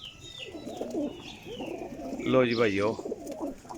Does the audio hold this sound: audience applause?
no